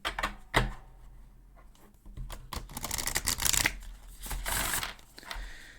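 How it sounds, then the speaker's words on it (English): Tarot deck shuffled by hand nearby, a loud initial slap followed by several seconds of rough, uneven riffling and sliding bursts that swell and fade, with no voice. "We're going to start by shuffling, okay, and pulling a card."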